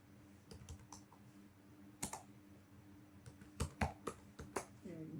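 Fingers type on a computer keyboard, with quiet, irregular key clicks coming in short bursts and a few stronger taps toward the end, fairly close and with no talking.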